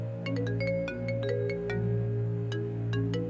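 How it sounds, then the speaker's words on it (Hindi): A bright electronic ringtone plays a repeating melodic pattern of quick tones over a steady low hum, continuing without voices. "किसका फोन है?"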